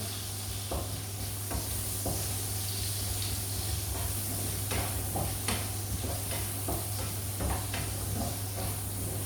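Steady sizzling of sliced ginger frying in hot oil for chicken rice, with occasional stirring clinks and scrapes, close and continuous with no talking.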